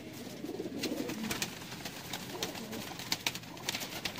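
Several Sialkoti fancy pigeons cooing close by in soft, low rolling calls, overlapping at irregular intervals against light background rustle, with no talk.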